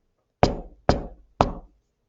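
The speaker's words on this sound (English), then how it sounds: "the girls heard a knock on the door" Three sharp knocks on a door land in an even rhythm, close and distinct, each ringing out briefly into silence.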